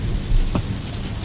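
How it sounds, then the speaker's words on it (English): Heavy rain drums steadily on a moving car, a dense, loud wash with a low rumble of the vehicle underneath and one brief louder splash or thump. "It have a heavy rain."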